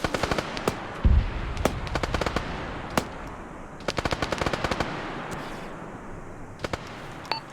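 Grenade machine gun fire in a military video game, with rapid bursts of sharp, loud shots and scattered single reports repeating throughout, some close and some farther off.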